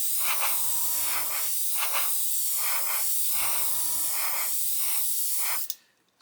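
An aerosol can sprays clear coat onto a scale model straight out of the bottle in about four close, hissing bursts. Short pauses fall between them and it stops abruptly at the end.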